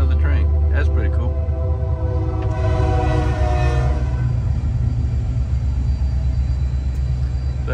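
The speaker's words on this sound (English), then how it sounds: "Hey, hell, here comes another train." A freight train rumbles past at close range with a long, loud horn blast sounding over the steady roll of the wagons.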